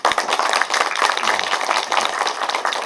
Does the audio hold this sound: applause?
yes